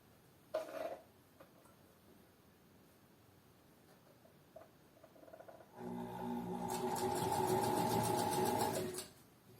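A sewing machine stitches a fabric collar along a drawn template line, running in one steady loud burst in the second half after a quieter stretch of faint handling.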